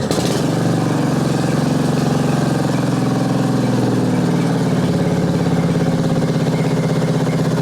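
A Yard Machines riding mower's small single-cylinder engine runs steady and close, a loud, even throbbing chug that rises slightly with a bit of throttle.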